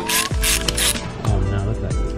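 Ratchet clicks and rasps in short bursts while loosening a 10 mm bolt on the fuel filter bracket of a fuel-injected Honda Street motorcycle, close and loud, with metallic mechanical chatter between strokes.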